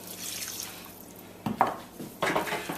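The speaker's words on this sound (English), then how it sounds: "you can certainly go in with some more water, which I'm going to go in with here" Water is added to a pot of cooking cornmeal cou cou, with a quiet background giving way to two short bursts of splashing and trickling pours, close by.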